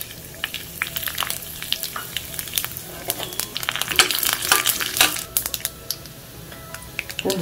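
Mustard seeds, split urad dal and dried red chillies crackle and pop in hot oil in a kadai while cooking keerai poriyal, with sharp irregular spluttering bursts over a low sizzle, close and fairly loud.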